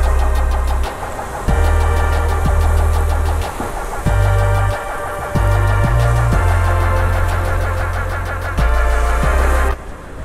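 A Thai boat engine runs loud and close, a heavy, throbbing low drone that shifts between idle and higher revs in steady blocks, with rattling mechanical knocks layered on top.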